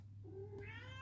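A cat gives a single rising meow close by in a quiet room where someone is doing cross-stitch, over a steady low background hum.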